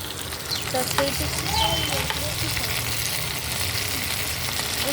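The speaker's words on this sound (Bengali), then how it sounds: "পেঁয়াজ দিয়েছি, টোটাল পেঁয়াজ ফোড়নে, আলু আর টমেটো, ঢেঁড়স দিয়ে ভালো করে এখন ভেজে নেবো।" Onion, potato, tomato and okra frying together in a pan on a burner set to 1200 power, a loud continuous sizzle with occasional stirring clatter close by.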